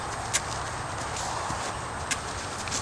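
Hooves of a young colt walking at its first ride clop in a soft, irregular rhythm, with a few sharper footfalls standing out over steady outdoor background noise.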